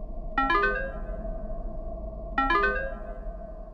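A phone ringtone sounds twice in a horror story, each ring a bright rising chime burst over a steady hum, about two seconds apart and fairly loud.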